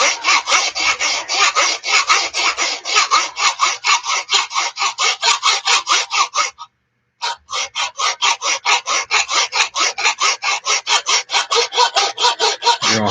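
A file is drawn along the steel of a Friedr Herder straight razor kit blade to smooth out ridges, making close, rhythmic rasping strokes in a steady series, with one short pause partway through.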